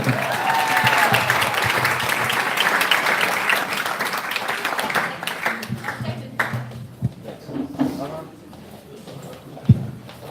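Wedding guests clap after the speeches, a full burst of applause that tapers off after about five seconds into a few scattered claps with talking voices in the room.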